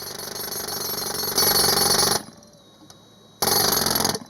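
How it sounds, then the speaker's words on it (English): A jackhammer pounds through concrete in a rescue training setting, loud and continuous with a rapid hammering rattle, stopping briefly for about a second before starting up again at full force. "We teach them the principles of jackhammer, how to properly use that to break through any concrete that may be in the way of a victim."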